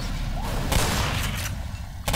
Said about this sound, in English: Just keep shooting at the barrel and you.